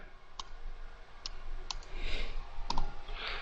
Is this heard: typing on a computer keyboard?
yes